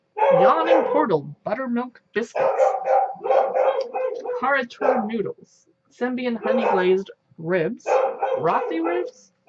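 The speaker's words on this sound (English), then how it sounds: "Ignore my dogs if you can hear them barking in the background." Dogs at home bark in the background behind a person who speaks steadily throughout, the barks short and intermittent, sitting mostly under the talking.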